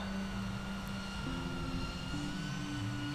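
A BetaFPV Pavo 20 Pro FPV drone flies near woodland, giving a steady, fairly quiet whirring hum with shifting motor pitch, continuous throughout.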